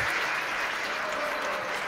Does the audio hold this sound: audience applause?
yes